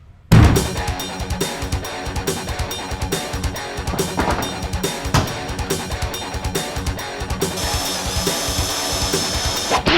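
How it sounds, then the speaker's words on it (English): A power drill fitted with a unibit bores holes through sheet metal during work on a 1970 Dodge Challenger R/T, running steadily and loud for the whole stretch with a busy, grinding whine and no talk. "If you guys are drilling holes in sheet metal,"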